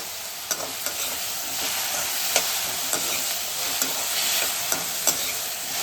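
Ingredients sautéing in ghee for pineapple kesari give a constant bright sizzle, punctuated by regular light clicks of a spoon against the pan, close and uninterrupted by talk.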